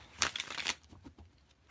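A deck of tarot cards riffles and slaps through a quick shuffle, a short burst of crisp papery flutter up close, then quieter handling noises trail off.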